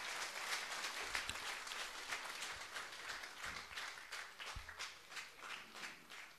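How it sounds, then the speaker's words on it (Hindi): A gathering of devotees at a spiritual assembly claps for a woman devotee. The applause is quiet, with individual claps standing out unevenly before it tapers off. "जोरदार ताली बजाओ मैया के लिए"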